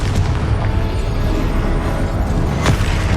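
A Confringo blasting curse goes off in the Hogwarts Legacy video game, a loud booming burst over dense, continuous battle noise, with a sharper crack near the end.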